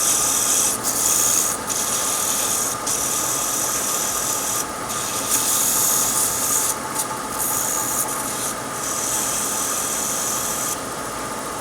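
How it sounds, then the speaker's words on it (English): A wooden Christmas ornament being sanded gives a steady, loud, rasping rub that runs throughout, with short dips and breaks as the stroke changes, and a motor-like hum beneath. "And maybe I'll sand it this way."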